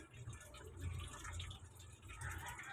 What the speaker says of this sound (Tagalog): Kaya nag-iipon po ako ng tubig.